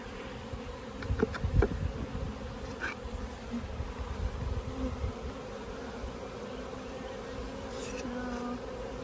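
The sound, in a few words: honey bees buzzing in a hive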